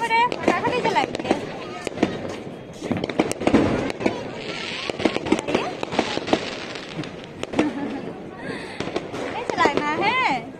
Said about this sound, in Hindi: पटाखे बच्चे जला रहे हैं।